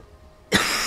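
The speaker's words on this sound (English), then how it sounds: "I keep coughing." Single short, sharp cough from a person, close and loud after a quiet moment.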